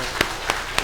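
A church congregation claps in blessing during a Sunday worship service, heard as three sharp, evenly spaced claps in under a second.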